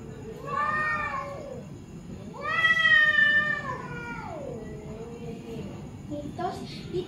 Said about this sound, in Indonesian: Papa lagi lihat kucing itu. Itu yang lagi berantem ya.